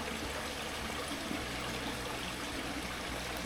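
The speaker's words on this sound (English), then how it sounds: "Bit of a spooky lagoon creek." Water in a lagoon creek on a coastal backpacking trail flows and trickles with a soft, steady wash. Faint and continuous, with no voices.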